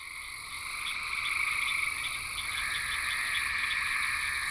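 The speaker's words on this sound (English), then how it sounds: "Frogs are responsible for producing many of the sounds that you are hearing in this chorus." Dense chorus of many frogs croaking together, a steady layered wall of calls that holds loud and unbroken throughout with no voices.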